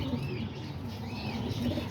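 Pigeons coo softly over a constant low background hum, with a few faint chirps and no clear speech.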